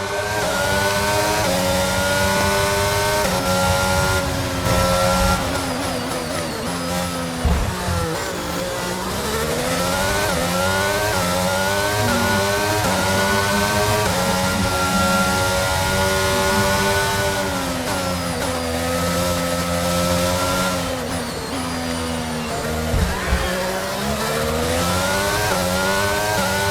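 A Formula 1 car engine in the F1 22 video game at the Monaco Grand Prix, wailing loud and steady throughout with rising and falling revs through gear shifts, with no talk over it.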